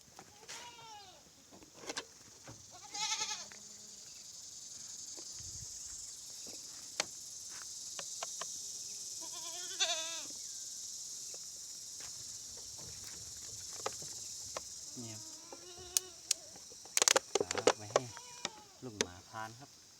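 Goats bleat intermittently, near and far, during milking outdoors, over a steady drone of insects with occasional clicks and knocks.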